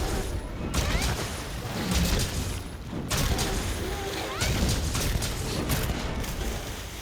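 Heavy hammer Big Bang combo slamming into a knocked-out Great Jagras in Monster Hunter World: Iceborne, a run of deep booming impacts spaced about a second apart, each with a crunchy crash and rumble under game noise.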